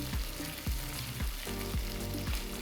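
Ginger garlic paste sizzles in a pan over a low flame, a loud continuous frying hiss under a repeating series of low pulsing tones about every half second, with no voices.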